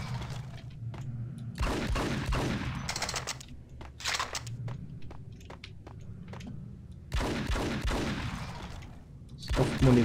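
Bursts of gunfire in the video game Max Payne as crates are shot up, several separate volleys with quiet gaps between them and thuds of splintering wood.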